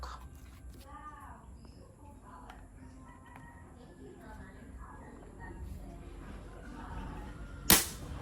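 A single sharp, muffled pop of a silenced multishot PCP air rifle shot sounds near the end, after quiet speech and faint background noise.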